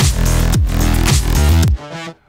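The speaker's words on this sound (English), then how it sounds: "before the Fold is applied, the drums sound like this." Drums sit inside a full, dense music mix before any wavefolding, with steady kick-driven pulses about every half second under sustained tonal parts, loud and continuous until the mix drops away near the end.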